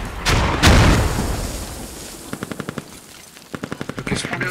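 Machine gun fire in the video game Squad crackles as rapid bursts of evenly spaced shots, two distinct volleys following a couple of louder heavy blasts early on.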